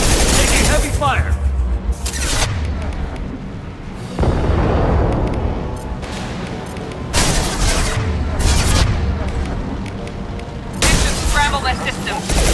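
Heavy gunfire in the video game Mass Effect 2, with loud sustained bursts and booming volleys that come in repeated waves throughout, mixed with voices and combat effects.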